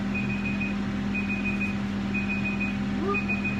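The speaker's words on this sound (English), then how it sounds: "So that's the alarm for the hops." Brewing timer alarm signaling the hop addition during a short all-grain boil, a series of high electronic beeps repeating in short bursts over a steady low hum of equipment, moderately loud with no talking.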